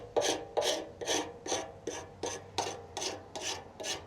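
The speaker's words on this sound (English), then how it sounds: "I'm literally just going to lightly scrape over it so you guys can see how easy it is to use and remove this stuff." Light scraping of stripped paint off a 2009 Yamaha R6 fuel tank, about ten even rasping strokes in steady rhythm, close and clear with no talking.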